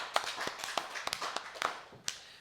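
A church congregation at a Sunday worship service claps in scattered, uneven strikes, each crisp and separate, fairly quiet and heard on their own against a hushed room.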